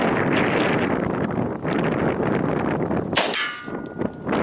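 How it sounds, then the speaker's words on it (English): Gusty wind buffeting the microphone outdoors at a rifle range, a continuous low rumbling roar with surging gusts and a brief sharp metallic clang partway through, no talking. "It's a little windy out here today."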